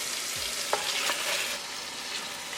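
Pork ribs stirred into a sizzling yogurt tadka in a pan: a loud, even frying hiss with a few spoon scrapes and clinks near the start, close and continuous, no talking.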